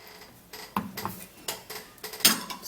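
Spoon scraping avocado flesh, partly spoiled with bad parts removed, into a bowl: a few separate scrapes and light clinks at an uneven pace, close and fairly quiet, with no talking.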